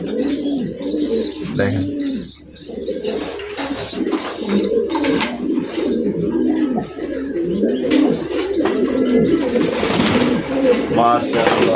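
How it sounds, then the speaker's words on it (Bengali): A breeding pair of Milibar King pigeons coos in repeated low, throaty rolls, close and steady, with a person speaking briefly over the birds and faint chirps from other birds in the background. "সেম এক জোড়া মিলিবার কিং দেখতে পাচ্ছেন, ব্রিডিং করতেছে"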